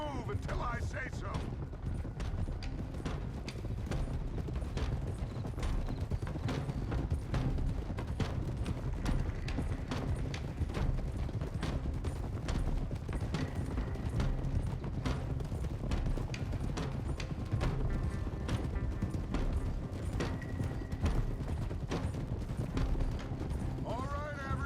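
Horse hooves clip-clop steadily on the ground in Red Dead Redemption 2, a continuous moderately loud trotting rhythm under an ambient game soundscape, with voices talking at times.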